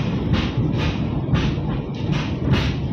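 A Kahuripan passenger train pulls into Kertosono station with a low steady rumble. Regular soft thuds from the wheels repeat beneath it, moderately loud.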